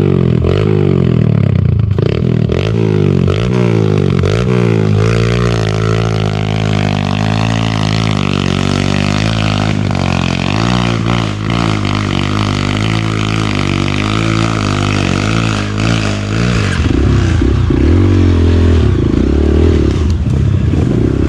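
A Kawasaki KLX150L trail motorcycle engine revs hard on a trail site with a burning clutch, a loud, steady droning roar with rising and falling pitch sustained throughout, with faint clattering mechanical noise mixed in.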